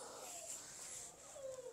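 A bully breed puppy whimpers in faint, thin, high-pitched whines that slide downward, two or three short cries heard alone and quietly.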